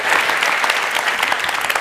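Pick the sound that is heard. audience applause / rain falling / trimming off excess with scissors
audience applause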